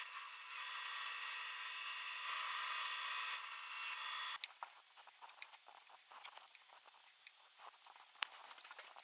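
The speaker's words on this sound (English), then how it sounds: "we'll go back to the bandsaw" A bandsaw cuts pallet wood with a thin, steady high whine for about four seconds, then falls quiet and gives way to light wooden knocks and handling noises.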